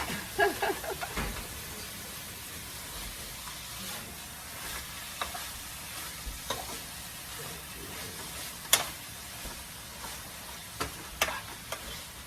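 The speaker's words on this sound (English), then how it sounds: "I like when I go ahead and stir fry my onions" Onions stir-fry in a pan for a spaghetti meat sauce of ground turkey and pork, giving a low continuous sizzle punctuated by scattered sharp scrapes and taps of the utensil, no voices.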